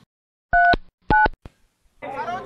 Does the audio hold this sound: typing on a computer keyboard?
no